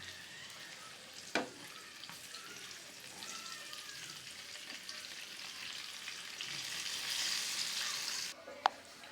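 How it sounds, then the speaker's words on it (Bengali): Eggplant slices fry in hot oil in a pan, a steady soft sizzle with a couple of sharp clinks and scraping as the pieces are turned over, growing slightly louder toward the end. "এখন বেগুনগুলা দিয়ে দেব। বেগুনগুলা এখন উল্টিয়ে দেব।"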